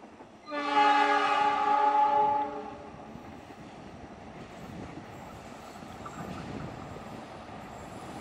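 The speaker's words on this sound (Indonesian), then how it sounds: "ini dia kereta Pilodaya dari Bandung tujuan akhir Solo balapan" The Pilodaya passenger train from Bandung to Solo Balapan sounds one long, loud horn blast of about two seconds, then rolls past with a softer steady rumble and faint wheel squeal.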